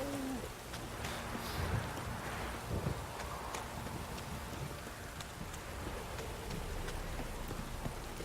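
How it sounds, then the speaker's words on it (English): A heavy downpour in The Witcher 3 video game keeps up a dense, steady hiss of rain drumming on surfaces, with scattered individual drops and a low rumble underneath, fairly faint and with no talking. "This downpour's a bastard,"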